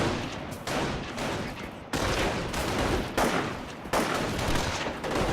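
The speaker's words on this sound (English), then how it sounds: "Mortar support coming in over here, almost wiping out the entire squad." Mortar blasts and machine gun fire in the Company of Heroes video game: dense, loud bursts of gunfire with heavier impacts, broken by brief pauses, and a voice faintly under the battle.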